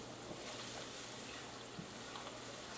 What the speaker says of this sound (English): And you can see olive oil is bubbling